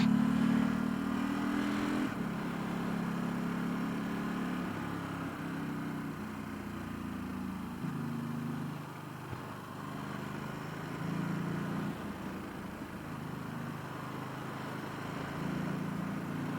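A motorcycle riding a mountain road in Japan, its engine droning steadily and close with small shifts in pitch and wind rush throughout.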